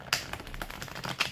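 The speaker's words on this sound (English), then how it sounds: "I'm going to shuffle once more" Tarot cards shuffled by hand in a quick run of soft papery riffles and taps, close and fairly quiet, with sharper flicks at the start and near the end.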